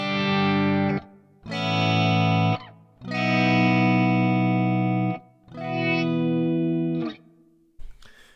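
Electric guitar through an Axe Fx III with an automatic swell effect, four sustained chords each fading in smoothly without a picked attack, ringing loud and clean, separated by short silences, with a brief scrape at the end.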